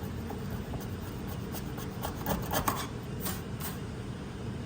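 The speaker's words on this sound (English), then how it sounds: "If I scrape this off the edge," Rusted primer is scraped off the edge of a bare metal panel in quiet, scratchy rasping strokes, a few short scrapes clustered near the middle with softer rubbing around them.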